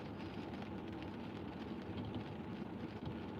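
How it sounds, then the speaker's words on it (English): Steady rain patters on the roof of a parked car, a dense even wash of sound heard from inside with no voices. "It's raining."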